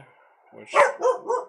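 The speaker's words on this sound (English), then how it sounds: "that's a dog" A dog gives three quick barks close by right after a person breaks off talking, each bark short and sharp with a brief pause between.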